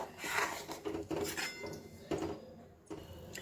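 Scraping and clinking of a spoon against a metal pot while stirring a dish of leftover chapati pieces, repeated stirring strokes with soft knocks, close by.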